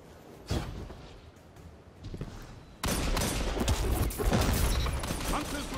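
Shotgun fire in the Destiny 2 competitive mode, starting with a few sharp blasts. A dense burst of loud gunfire and action follows.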